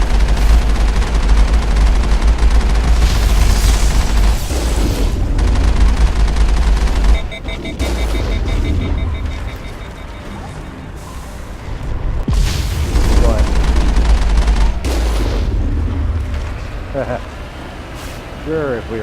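Sustained enemy gunfire in Mass Effect rumbles on for the whole stretch, loud and dense with booming bursts, layered over heavy vehicle engine noise with a few brief shifts in intensity.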